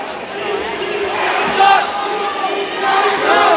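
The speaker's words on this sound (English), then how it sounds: "And the Estevan crowd starts chanting." Crowd chanting at a high school girls' basketball game in a gym, a loud sustained roar of many voices with rhythmic swells, near and continuous.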